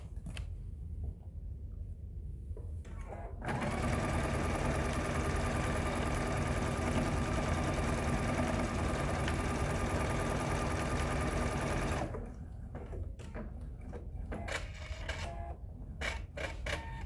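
A sewing machine stitches quilt pieces together for a star table runner, running steadily and fairly loud for about eight seconds between quieter stretches of handling noise, with no talk.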